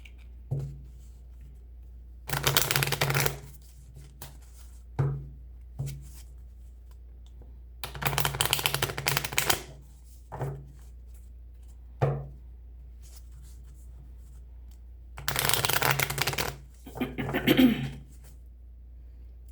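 A deck of oracle cards is shuffled in several bursts of riffling and sliding, each lasting a second or two, with short taps and card flicks between them, close up over a low steady hum.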